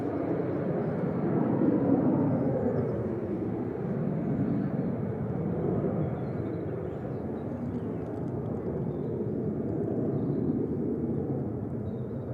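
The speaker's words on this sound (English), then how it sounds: "VistaJet getting up like a rocket" A VistaJet business jet climbing steeply away after takeoff at Manchester Airport, a sustained broad engine roar at fairly even loudness throughout, with no voices.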